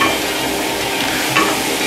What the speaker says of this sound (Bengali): পটল আলু দুটো একসাথে ভালো করে কষিয়ে নিচ্ছি ভালো করে নেড়ে চেড়ে কষিয়ে নেব